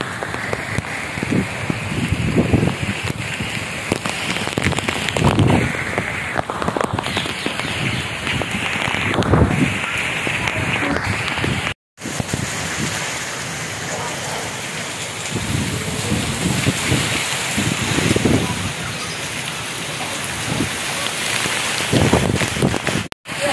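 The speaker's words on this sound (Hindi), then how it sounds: "हवा नाल बारिश बहुत ज़्यादा" Heavy rain pours down in strong, gusty wind, a dense steady hiss of drops on surfaces with swelling surges from the gusts, loud and close throughout, with no talking.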